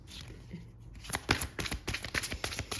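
Oracle cards being shuffled and drawn at a card reading, a quick run of soft papery riffles and flicks, close and fairly quiet, with no talking.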